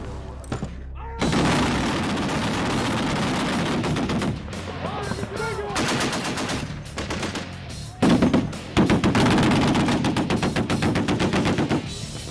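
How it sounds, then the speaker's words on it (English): A dozen M2 .50 caliber machine guns fire at once on a Marine live-fire range: loud overlapping bursts of heavy gunfire with rapid rhythmic thuds, brief lulls, then renewed sustained volleys. "dozen 50 calibers firing at once literally shakes the flak jackets and helmets of the instructors"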